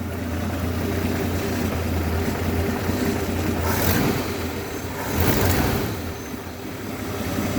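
A 1981 Ford Mustang engine fitted with a new HEI distributor runs steadily nearby, a loud continuous drone with a low hum and two brief swells where the revs rise.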